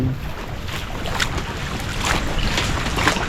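Heavy rain with gusting wind pours steadily outdoors, a dense, constant hiss and low rumble that grows slightly louder toward the end.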